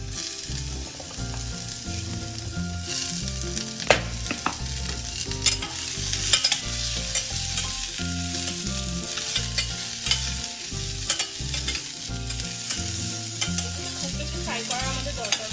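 Chopped onion fries lightly in a pan for a chicken stew with vegetables, a steady close sizzle broken by repeated scraping and clinking as it is stirred, with no voices.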